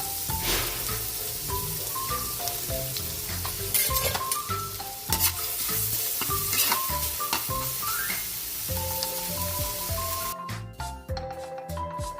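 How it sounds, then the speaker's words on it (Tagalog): Garlic sizzles in melted butter in a pan, a steady frying hiss broken by stirring scrapes, with music playing underneath. "Lagay na natin yung ating butter. Sabay na natin yung ating garlic,"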